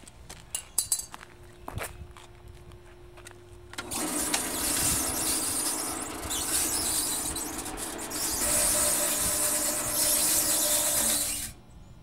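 Roll forming machine starting after a few faint clicks and knocks, then a steady loud mechanical whine and grind that runs for about eight seconds, swells once midway and then stops abruptly.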